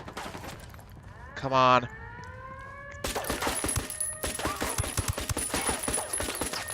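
Bursts of rapid gunfire crackle in a Ghost Recon firefight, dense and steady across the second half over a tonal background, with a brief siren-like whine earlier and a voice speaking briefly.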